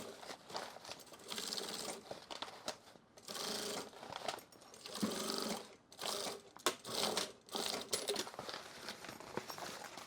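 Sewing machine stitching a stiff duffle bag drop liner fabric along a curved seam, running in close bursts with short pauses between stitch runs.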